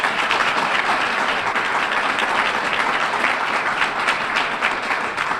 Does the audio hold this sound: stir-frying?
no